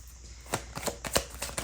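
A deck of tarot cards is shuffled by hand, making a run of crisp riffling snaps and soft flutters in quick, uneven succession, close and clear with no talking.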